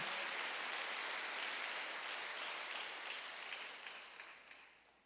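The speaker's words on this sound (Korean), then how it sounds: "박수로 맞으세요." A church congregation at a Wednesday worship service breaks into applause, a fairly soft, even patter of many hands that gradually fades out over about five seconds.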